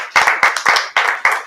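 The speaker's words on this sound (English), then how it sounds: "Another round of applause." Loud, close hand claps ring out in a steady, rhythmic pattern at a press conference, with only a sparse few clappers joining in.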